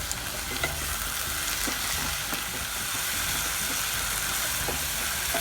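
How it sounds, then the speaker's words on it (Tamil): Ginger and garlic sauté with onions in a hot pan for green peas masala, giving a steady close sizzle with occasional light stirring scrapes, even and continuous throughout. "நம்ம எடுத்து வச்சுக்கிற இஞ்சி பூண்டு சேர்த்துடலாம்"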